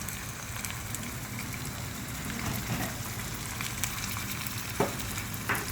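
Beef stir-fries with holy basil in a hot pan, giving a constant close sizzle and crackle, with occasional sharp ticks of a utensil against the pan.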